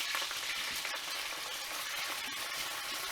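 Hot pan sizzling hard as cooking juice from a sous vide bag of lemon garlic rosemary chicken breast hits it, a loud continuous close-up fry with no speech.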